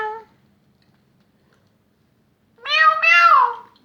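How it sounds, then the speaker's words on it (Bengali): A cat meows twice, a short meow at the start and a longer, rising-and-falling meow near the end, close and clear with silence between. "ম্যাও ম্যাও"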